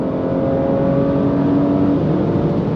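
An Audi B9 in sport mode pulls hard under acceleration, heard from inside as a loud, steady engine drone with a whirring tone.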